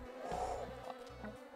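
Insect buzzing from bees or wasps in the Spelunky video game, a steady droning swarm hum with a couple of short repeated game tones underneath, fairly quiet and without speech.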